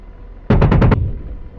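Apache helicopter cannon in DCS World, night mission over Syria, fires a rapid burst of about five heavy, closely spaced shots, loud and punchy, with a rumbling tail fading afterward.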